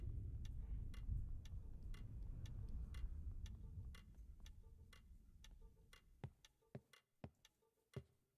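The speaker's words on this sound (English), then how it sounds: "Alright, there's a clock somewhere." A clock ticks steadily somewhere in a dark video-game basement, faint and even, under a low rumbling ambience that fades away, leaving sharper distinct ticks toward the end.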